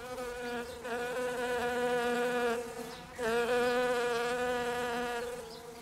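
A single housefly buzzes steadily and fairly close for about six seconds, its whining drone wavering in pitch and briefly dipping near the middle, with no voices present.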